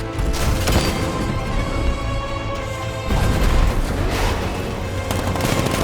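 A tank's riot suppressor fires in the video game Batman: Arkham Knight, letting loose rapid bursts of gunfire and heavy booms. The volleys are loud and dense, with a short lull between the two bursts.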